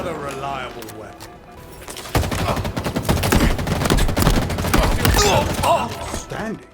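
Rapid weapon fire in Halo Infinite played with keyboard and mouse on an Xbox Series S, a dense stream of sharp shots lasting several seconds, loud and close, beginning after a stretch of voice.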